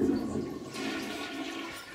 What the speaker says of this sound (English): Now let's hear if this toilet sounds the same.